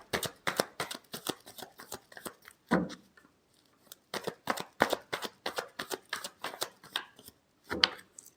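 Tarot cards being shuffled by hand, quick crisp bursts of riffling flicks in a steady rhythm, pausing briefly midway before resuming, close and fairly quiet.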